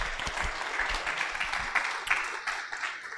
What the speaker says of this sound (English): please give another round of applause to our speakers today.